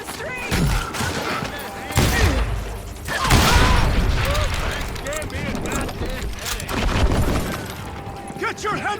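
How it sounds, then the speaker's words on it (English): A street shootout in the Call of Juarez: Gunslinger video game bursts with repeated loud gunshots and fusillades, with rattling mechanisms and booms, while voices talk and shout over the firing. "They're shooting in the street."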